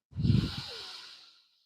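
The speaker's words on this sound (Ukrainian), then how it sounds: "Робимо повільний, глибокий видих." A single slow, deep breath out during a meditation exercise, close and soft, starting with a breathy rush that trails off into a long quiet hiss over about a second.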